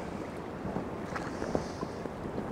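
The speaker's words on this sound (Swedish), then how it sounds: "Helvete vad det blåser idag." Strong wind gusts over open water on a perch fishing trip, a steady, fairly faint broadband rush with small swells and occasional bumps, no voices.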